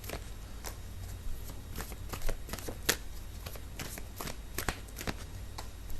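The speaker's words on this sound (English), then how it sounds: "I need to pull out a few more cards." A deck of tarot cards is shuffled in a steady series of crisp riffles and flicks, with occasional sharper snaps standing out against a low background hum; no one speaks.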